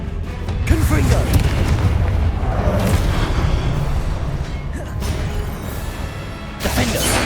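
Confringo fire spells explode in Hogwarts Legacy gameplay, a dense, continuous rumble of booms and bursts layered with battle effects, loud and close, while a voice speaks over the action.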